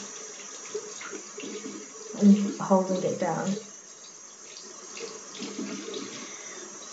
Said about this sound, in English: So I'll just run some water underneath that